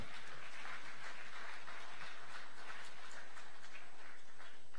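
Conference audience at a Nigerian economic outlook event claps for the speaker, a fairly quiet, continuous patter of applause with a low rumbling undertone running beneath it.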